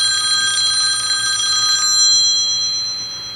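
Steady electronic ringing of a home phone alert system, a bright continuous trilling tone that carries loud and close for about two seconds before fading into a softer lingering ring.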